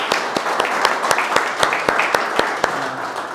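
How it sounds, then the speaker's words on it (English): A business members' event audience applauds at a talk, sustained clapping with sharp individual claps standing out clearly over the crowd's steady patter. "Round of applause."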